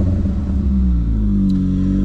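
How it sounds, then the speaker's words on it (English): A car with a loud exhaust revs hard, a close, heavy engine roar whose pitch climbs steadily with no talk over it. "loud exhaust"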